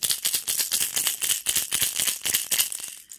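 A pencil popper fishing lure rattles in the hand, a fast run of sharp clicky rattles shaken in bursts, close and loud, ending abruptly.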